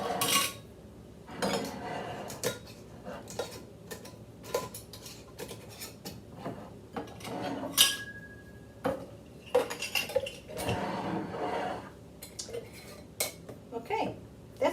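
Old canning lids set onto glass jars in a kitchen, with repeated close metallic clinks and light clatter spread irregularly throughout.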